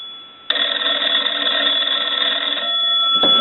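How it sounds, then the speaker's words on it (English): Bell of a Swedish American wooden wall telephone ringing in one sustained, loud, close burst of about three seconds, starting abruptly with no voices. "I'll let that go one more time."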